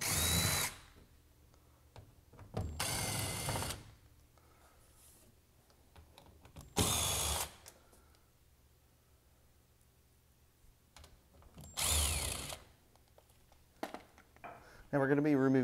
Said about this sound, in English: Now we're going to be removing quite a few screws on this unit